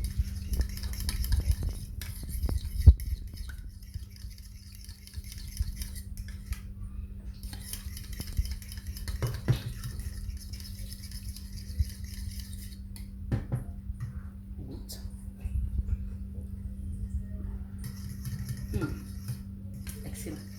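A spoon stirs a peanut butter vinaigrette with soy sauce, salt and lemon juice in a bowl, giving soft, steady scraping and clinking throughout, faint and close, with a few louder taps.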